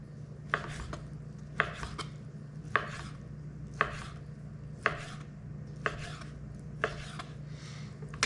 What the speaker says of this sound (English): we're gonna slice this pretty much the same as we sliced the pork belly